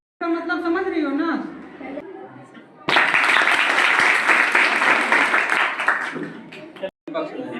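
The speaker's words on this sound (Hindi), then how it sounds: "इनके लिए भी जोरदार ताली" A voice speaks first, then an audience at a school debate on industrialization and the environment bursts into loud, sustained applause lasting about four seconds before a brief pause.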